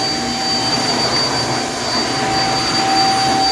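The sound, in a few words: vacuum cleaner running on a car mat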